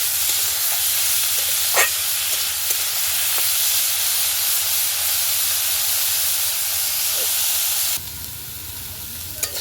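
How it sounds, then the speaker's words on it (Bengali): Drained cauliflower florets frying in hot oil in a pan, a loud continuous hissing sizzle with a few scattered pops and light stirring taps, the roar easing abruptly near the end. "এগুলোকেও ভালো করে ভেজে নেব।"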